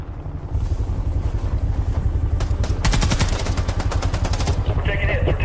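Loud, sustained bursts of automatic gunfire in an action movie battle, crackling rapid shots layered over a heavy rumbling engine or vehicle drone throughout.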